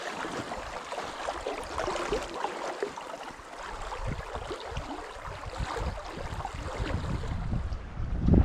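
Steady wind gusting over a stream during fly fishing, a broad continuous rushing roar that swells and eases, loud and close with buffeting on the microphone and no talk.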